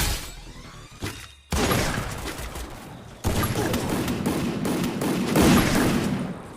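Rapid gunfire crackles in the Free Fire battle-royale game, with bursts starting near 1.5 and 3.2 seconds and a dense, loud barrage sustained to the end.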